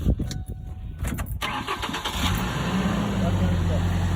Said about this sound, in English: then we'll try to start the truck